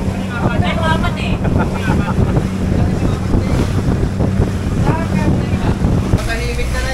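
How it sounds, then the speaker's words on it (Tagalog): Strong sea waves slosh and crash around a small boat at sea, mixed with heavy wind rumble on the microphone, loud and continuous throughout with people talking over it. "Sobrang lakas na ng alon dito."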